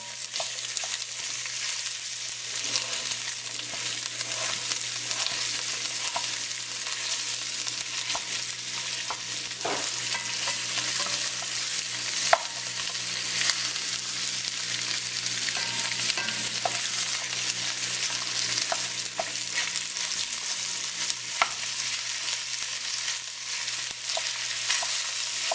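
Sausage sizzles on a pellet-fired griddle, a steady crackling hiss with scattered small pops that continues on its own without talk.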